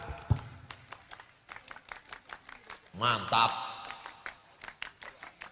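A crowd does the rhythmic scout clap (tepuk pramuka) at an outdoor Islamic religious gathering. A short, dense burst of claps comes in the middle, and someone speaks before and after it.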